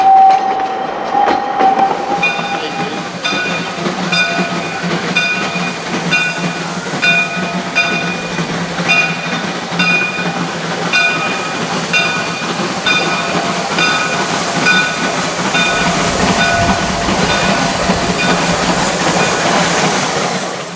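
A geared steam locomotive train runs at Old Threshers in Mount Pleasant, Iowa. A long whistle blast opens over steady rolling rumble, then rhythmic clanking and clicking of cars continue loudly for about twenty seconds with faint hiss.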